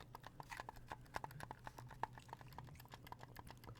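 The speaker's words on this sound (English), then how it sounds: "you guys will have to deal with these Xbox controller sounds" Rapid, light plastic clicks of Xbox controller buttons tap out in an irregular, steady stream, close and faint, during Fortnite play.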